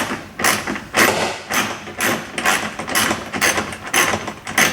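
A socket wrench loosens a nut on a recumbent seat bolt in a run of repeated ratcheting clicks and knocks, close and fairly loud, with an even, pulsing rhythm throughout.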